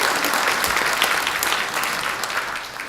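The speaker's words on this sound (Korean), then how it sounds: "그걸 위해서 박수 한번 보내주시고" An audience of local council members applauds at a political lecture given by a party floor leader. The clapping is dense, steady and loud for the whole stretch, easing only slightly near the end.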